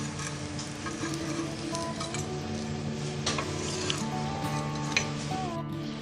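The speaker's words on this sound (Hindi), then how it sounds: "ये हमारे आखिरी पीस हैं जो फ्राई कर रहे हैं। ये तवे पे फ्राई किए हैं हमने" Bread pieces fry on a tawa with a soft, continuous sizzle, joined by occasional light utensil clinks and scrapes, heard close and fairly quiet without speech.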